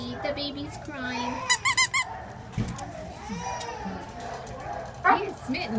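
A shelter dog chomps a squeaky toy, producing a quick burst of sharp, high squeaks and then one more squeak later, close by, with someone talking through it.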